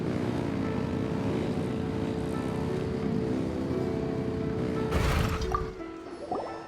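Boat engines in the video game Genshin Impact rev with a dense, continuous droning rumble that holds steady, then a brief splashy burst surges up near the end before the engine noise drops away.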